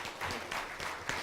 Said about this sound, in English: So can I have another round of applause for Lisa